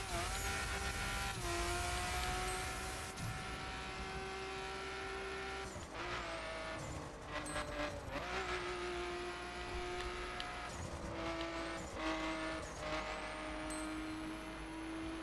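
Engine of a fast car in the racing game The Crew, a loud continuous drone that rises and drops with gear shifts, with bursts of tire screech and skidding as it takes corners.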